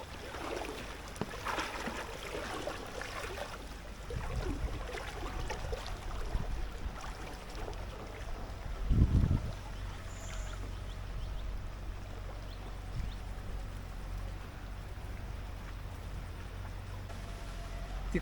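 Floodwater of the Arjuna and Kodavali rivers rushing together at Rajapur, a steady low roar of flowing water with a brief louder splash or thump midway and faint distant sounds.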